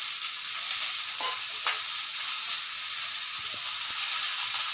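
Greens tossed into a hot pan already holding fried shrimp and onion, giving a steady, bright sizzle that holds evenly throughout, with a couple of faint clinks of stirring.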